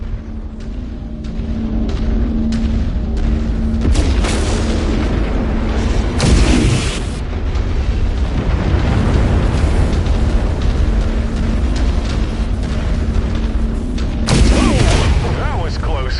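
An ammo explosion in a combat video game sets off a loud run of booming blasts and rumbling detonations under an ongoing engine drone, with sharp bursts near the start and end and game voice lines mixed in.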